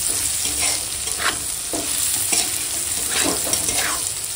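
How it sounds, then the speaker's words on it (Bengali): Cumin, dried chili, bitter gourd and potato sizzle steadily in hot oil, with occasional scraping stirs of a spatula at close range. "এখন এই গোটা জিরের সঙ্গে একটু সময় ভেজে নেবো"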